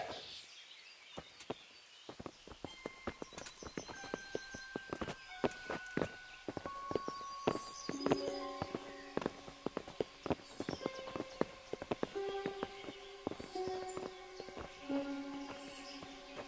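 Horse hooves clip-clop at a walking pace in the medieval video game Kingdom Come: Deliverance, a run of fairly faint, regular knocks set against soft sustained musical tones.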